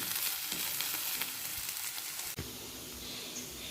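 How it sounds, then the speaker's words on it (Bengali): Potatoes frying in hot oil in a home kitchen for biryani, a steady close sizzle and hiss running throughout with a brief clatter partway, no talking. "এদিকে আলুটা আমি ভাজছি, এই যে বিরিয়ানির জন্য আলুটা ভাজা হচ্ছে।"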